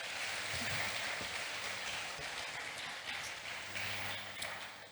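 Audience applause at a Ghanaian youth event, a broad, steady wash of clapping from a crowd that stays dense throughout, then swells slightly again near the end.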